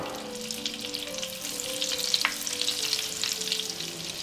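Vegetable oil with about 50 g of butter sizzles and fries steadily in a pan over medium heat, a constant crackling hiss with faint pops and no talking.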